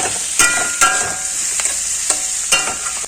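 Boiled taro stolons and green chillies in a hot pan with dried shrimp, a close, steady sizzle broken by several sharp scraping stirs of a spatula, no voices.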